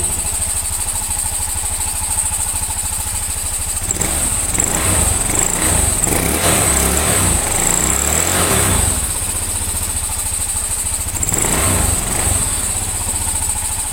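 A Honda Scoopy motorcycle runs steadily after a service, a close, even engine hum with a high-pitched whine; the sound swells louder and rougher in two stretches as the engine is revved.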